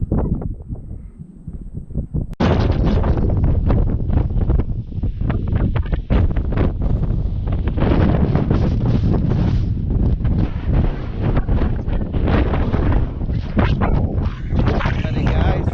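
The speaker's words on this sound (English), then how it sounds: "Sorry about the wind." Strong gusting wind buffets the microphone on the exposed Kinder Scout hilltop during a wild camp in 70mph winds, a loud continuous roar with rushing surges after a quieter opening couple of seconds.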